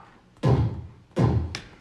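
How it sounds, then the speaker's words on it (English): A cannon-firing sound effect in an old radio drama comes as two muffled, thudding booms, each fading quickly, followed by a brief sharper hit. "You call that firing off the cannon?"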